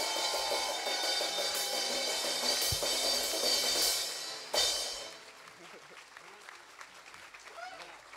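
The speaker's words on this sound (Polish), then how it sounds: "please give a warm round of applause" A concert audience breaks into loud, sustained applause with cheering for a performer taking the stage at a Warsaw show, the clapping dense and close, swelling then dropping sharply before continuing more thinly with scattered voices.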